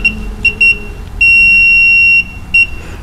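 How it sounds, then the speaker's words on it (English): A multimeter's continuity tester beeps while checking wiring for a safety neutral switch on a Ford tractor, giving short shrill chirps, then one sustained tone of about a second, then more quick beeps, loud and close. "I'm using Junior Mint's multimeter because I took mine home, and it has audible noise."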